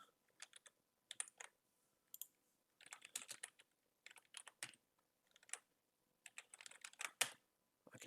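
Fast, light tapping on a computer keyboard comes in irregular bursts and short runs of keystrokes separated by pauses, faint and close, with no voices.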